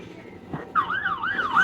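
A police siren wails outside, close and fairly loud, its rising and falling pitch sweeping through repeated cycles after a brief thump.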